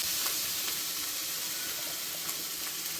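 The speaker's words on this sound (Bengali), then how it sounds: "আলুগুলি মশলা দিয়ে একটু ভালো করে ভেজে নেব।" Potatoes fry with spices in a hot pan while a fish curry is cooked, giving a steady, even sizzle that stays fairly loud and close throughout, with no talking.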